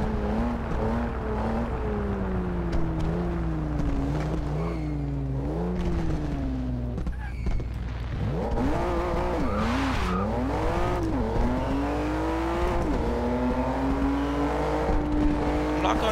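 A stock 2015 Volvo S60 in the racing game Forza Horizon 2 accelerates hard, its engine note climbing through several gear changes with squealing tires, loud and continuous throughout.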